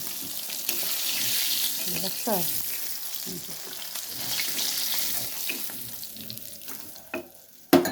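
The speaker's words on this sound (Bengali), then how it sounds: "এখন আমি মাছের ডিমগুলো ভেজে নিব ওই কড়াইতে ওই তেলটার ভিতরে" Oil sizzles steadily in a wok as fish roe fries, with occasional stirring clinks and scrapes, loud and close throughout.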